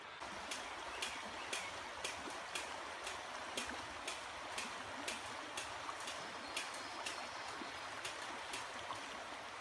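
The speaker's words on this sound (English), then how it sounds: "you just walk across the creek" Shallow flowing creek babbles and trickles quietly on a trail crossing, with regular sharp splashy steps roughly every half second as someone wades through the water.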